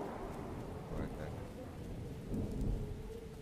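Heavy rain pours steadily during a thunderstorm, with low rumbles of nearby thunder rolling underneath the constant hiss of the downpour.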